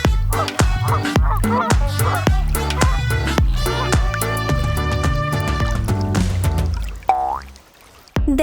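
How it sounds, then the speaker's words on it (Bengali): A swan gives repeated honking calls over a bouncy, rhythmic musical backing, ending with a short rising sweep. "রাজহাঁস হলো সবচেয়ে বড় উড়তে পারা পাখিদের মধ্যে একটি।"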